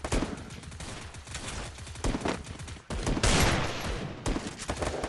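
Rapid automatic gunfire in the mobile battle-royale game Free Fire, dense bursts of shots running almost nonstop with one short break, loud and close with no voices.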